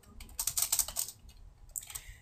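Computer keyboard keys tapped in quick bursts while entering game scripting code, a close, fairly quiet patter with a short pause before a few more keystrokes.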